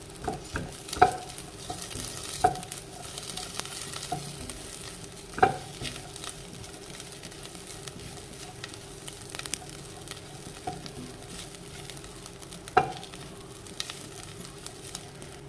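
Coconut pieces fry with spices in a pan, crackling and hissing softly while a spoon scrapes and clinks against the pan every few seconds, nearby and without speech.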